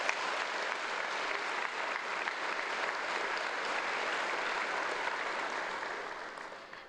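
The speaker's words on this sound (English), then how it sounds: "Can I please ask for a round of applause to thank the official party for their time today?" A graduation ceremony audience applauds steadily for about seven seconds, with dense even clapping from a large crowd and no talk over it. The clapping tapers slightly at the end.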